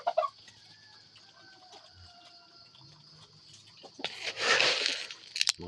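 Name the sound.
chickens clucking, hens and rooster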